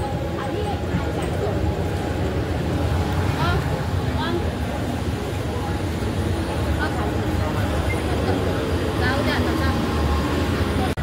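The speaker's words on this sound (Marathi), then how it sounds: "याच ट्रेनमध्ये आता जाऊ आपण निघू।" A suburban train rides toward Badlapur station with a steady, loud rumble and rattle that never lets up, while people talk over it.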